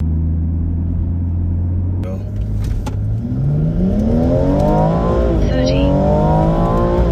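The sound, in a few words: car accelerating on a drag run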